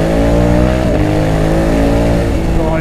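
Close and loud, a 2020 Honda Africa Twin 1100 motorcycle's engine revs with a dense harmonic growl whose pitch dips and then climbs again over a few seconds.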